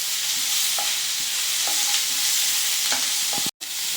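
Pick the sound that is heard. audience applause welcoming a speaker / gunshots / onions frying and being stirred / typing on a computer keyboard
onions frying and being stirred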